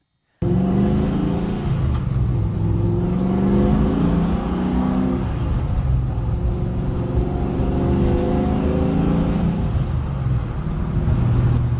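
A 1969 Pro Touring Camaro with a Tremec 6-speed drives along, its engine a loud, steady low rumble from the cabin with gentle rises and falls in pitch as it pulls, no speech over it.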